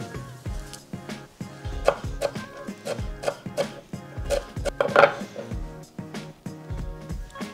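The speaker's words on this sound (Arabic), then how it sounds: "غناخد الوريقه ديال النعناع حتى هما غنقطعهم شويه ديال القزبر ومعدنوس" Knife chopping fresh mint leaves, coriander and parsley on a board for a green zucchini salad, a steady series of close, sharp thuds in quick rhythm, with no talk.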